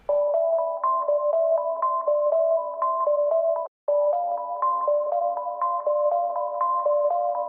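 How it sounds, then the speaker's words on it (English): A synth arpeggio lead plays a quick, repeating pattern of bright plucked notes, briefly cutting out midway before resuming alone. "I have the ARP lead bounced down to audio here"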